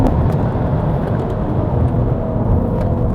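A Cadillac CT5-V Blackwing accelerating hard past 200 km/h fills the clip with a steady, loud, broadband roar of engine and road noise, heard from inside the car with no talking.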